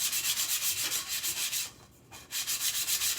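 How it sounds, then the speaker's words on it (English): A Dollar Tree wooden pumpkin gets a quick rough sanding along its edge, with steady rapid rasping strokes in a close, loud, continuous rhythm that pauses briefly before resuming. "So I am going to sand it."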